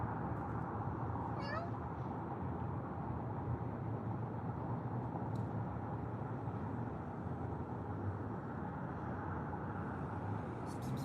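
A cat meows once near the start, a short rising call over a steady, loud background hum, with faint voices in the mix.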